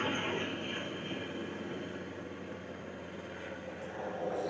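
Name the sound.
helicopter flying overhead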